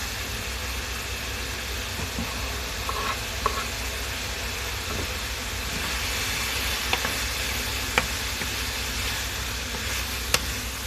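Burdock and carrots sizzle in a pan, a loud steady hissing fry throughout with a few sharp clicks of utensils against the pan.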